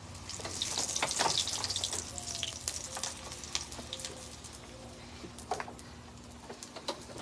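Running water rinsing a wok (kawali) in a home kitchen, a steady hiss of flowing water with scattered clinks and splashes, moderately faint and without speech.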